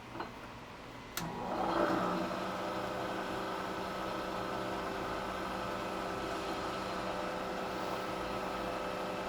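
A lathe boring a coolant manifold part runs steadily after a brief click and rising start, a continuous mechanical hum and whir with no talk.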